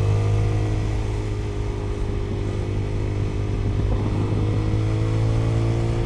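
A motorcycle engine held at higher revs gives a loud, steady, close buzzing drone with road rumble underneath, barely changing over several seconds.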